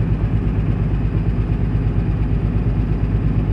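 A Komatsu PC200-8 excavator's diesel engine idles steadily and close during an injector check, a continuous low throbbing rumble with no talk.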